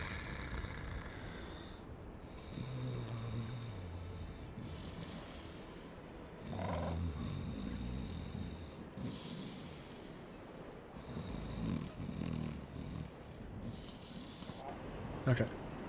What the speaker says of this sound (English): You hear that? That's snoring.